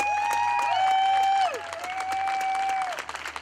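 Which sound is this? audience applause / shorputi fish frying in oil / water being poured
audience applause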